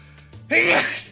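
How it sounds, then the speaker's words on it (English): A single sharp sneeze bursts out after a quiet intake of breath, close and loud. "And now, a sneeze"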